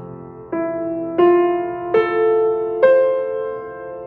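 Grand piano notes struck one after another with the sustain pedal held down, four soft attacks about a second apart whose tones keep ringing and overlapping, close and alone.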